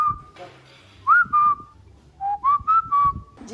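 A person whistles in short rising and falling notes to call a dog indoors, about six bright whistles in two bursts, close and clear over faint room background.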